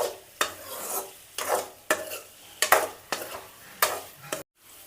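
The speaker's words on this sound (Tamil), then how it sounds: "பன்னீர் வந்து 2 மினிட்ஸ் நல்லா ஃப்ரை ஆயிடுச்சு" Paneer being sautéed and fried in a pan for a paneer gravy, heard as about nine rhythmic scraping stir strokes over a soft sizzle, close and clear with no talk, ending abruptly.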